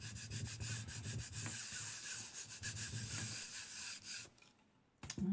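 A baren is rubbed over paper laid on an inked lino block, making rhythmic, close scrubbing strokes. The strokes pause briefly near the end and then start again.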